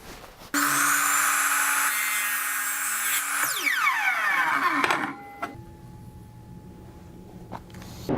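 A chop saw with a metal-cutting blade spins up with a sharp whine, bites through aluminum railing stock with a loud grinding scream, then winds down with a falling pitch and clicks.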